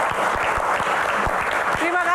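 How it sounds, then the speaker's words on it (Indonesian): Audience at a film Q&A session applauding steadily, a dense continuous patter of clapping at moderate loudness with a voice speaking over it near the end. "Tepuk tangan."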